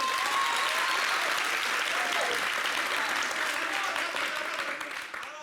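Steady, dense applause from a TV studio audience fills the whole stretch at close range, holding strong before thinning slightly near the end, with a faint voice briefly audible at the start.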